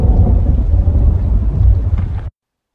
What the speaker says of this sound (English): I implemented this rain particle and this thunder particle